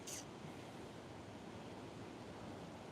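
Ocean waves wash in as a steady, broad rushing surf that stays constant and moderately distant throughout, with a brief higher hiss at the very start and no talking.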